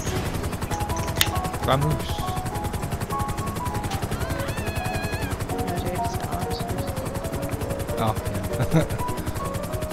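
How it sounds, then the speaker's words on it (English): Helicopters in the video game GTA V, a continuous rapid rotor chop under gameplay noise and sporadic gunfire, with people talking over it. "Quickly, before the helicopters come, just go."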